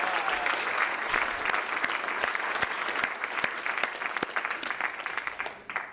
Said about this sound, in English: Could we get one more round of applause for them all,